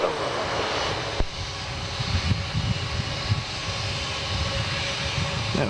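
A Jetstar jet taking off from runway 27 at Melbourne Airport, a steady broad engine roar heard from a distance, sustained and rising slightly, with a faint background voice.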